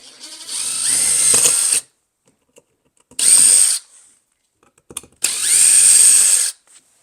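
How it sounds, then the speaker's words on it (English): A cordless power drill spins out long screws from an indoor wall light fixture box, three loud whirring bursts separated by short pauses and faint clicks, with no talking. "I like drills."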